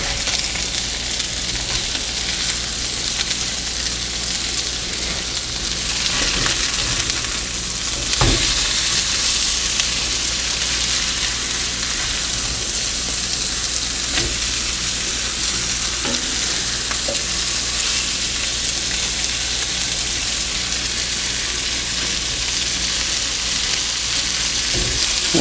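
Salisbury steak patties fry in a hot pan with a loud, steady sizzle that runs without a break, joined by a few sharp clicks and scrapes of a utensil, with no talking.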